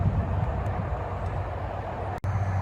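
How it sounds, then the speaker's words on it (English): Diggers working just over the fence, a steady low mechanical engine rumble and grind in the background, fairly loud and continuous, with one brief sharp click. "There's some diggers just over the fence."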